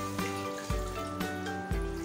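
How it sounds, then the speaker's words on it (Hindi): Water is added to meat in a pot for yakhni pulao, a soft trickling pour under steady background music with a few rhythmic thumps; no voices. "अब मैं इसमें पानी ऐड करूंगी पहले"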